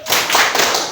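A quick burst of group clapping in a classroom as students give a "tepuk salut" cheer, a few close, sharp claps in a short rhythmic pattern.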